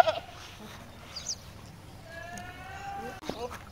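Young goat kids at a goat market bleat in a few short, wavering calls, the clearest near the end, over a steady murmur of crowd noise and someone talking.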